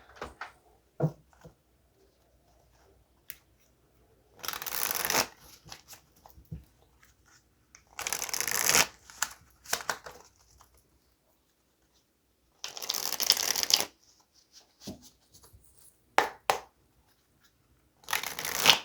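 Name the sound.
tarot card deck being shuffled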